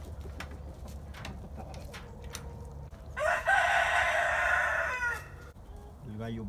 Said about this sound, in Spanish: El gallo bayo.